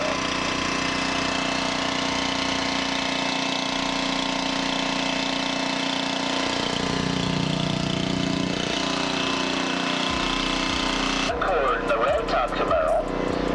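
Drag racing cars, a 1998 Camaro V6 in the left lane and a 1993 Camaro in the right, idle and rev at the strip with a steady engine drone that shifts to a harsher, pulsing roar near the end, while an announcer talks over it.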